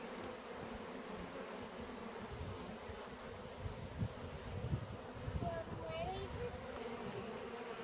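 Dense, steady buzzing of many honey bees close by at a long hive entrance, a continuous hum with a few louder swells from individual bees passing near.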